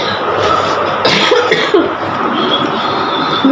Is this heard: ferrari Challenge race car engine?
no